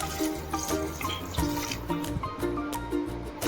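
Water poured into a pot of wheat pasta during home cooking, a steady splashing, trickling pour heard close up and continuing throughout.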